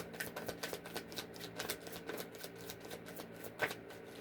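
Tarot cards shuffled by hand in quick riffling bursts, a rhythmic flutter of papery slaps repeating about every half second, close and quiet with no speech.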